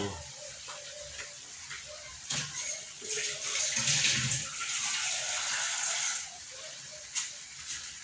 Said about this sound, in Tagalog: Lalagyan natin ng konting sabaw.